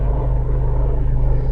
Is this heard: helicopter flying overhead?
yes